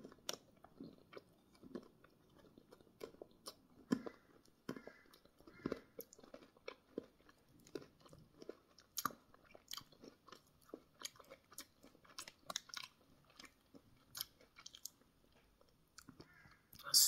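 A bite of gingerbread milk chocolate with small crunchy bits is chewed slowly and close up, giving soft, irregular crunches and mouth sounds with no talking.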